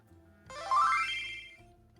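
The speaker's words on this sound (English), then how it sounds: "That's the level up noise." A short rising electronic chime sweeps upward for about a second over faint low background hum, a bright synthetic tone heard once on its own, playing as a level-up victory cue.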